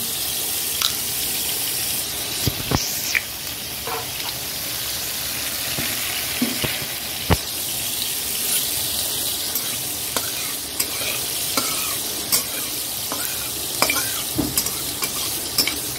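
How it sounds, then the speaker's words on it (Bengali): Panch phoron spice mix sizzles in hot oil in a home kitchen, a steady soft frying hiss with scattered crackles and occasional sharp clinks of a utensil against the pan, no voices. "এদিকে তেলটা হয়ে যাচ্ছে, একটু পাঁচফোড়ন দিয়ে দিলাম।"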